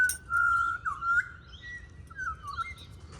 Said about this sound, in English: Thank you, Butcher Bird.